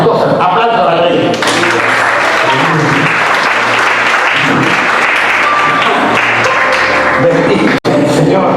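Loud, sustained applause from a church congregation fills the space with dense clapping and cheering voices, rising after a moment and continuing steadily before a brief break near the end.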